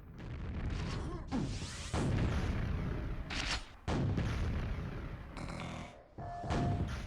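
Grenade explosions and weapon fire in the QuakeWorld duel game, repeated loud blasts with sharp onsets and broadband bursts, dense and continuous across the stretch.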